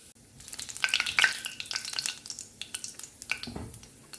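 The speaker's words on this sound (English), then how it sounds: "Heat 3 tablespoons of mustard oil and temper it with half a teaspoon of jeera, cumin seeds, a bay leaf and a dried red chili." Cumin seeds, a bay leaf and a dried red chili crackle and sizzle in hot mustard oil, a steady close frying hiss with popping seeds and a few stirring scrapes, no voices.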